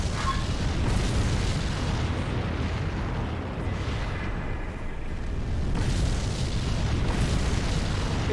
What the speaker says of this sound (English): It shoots meteors.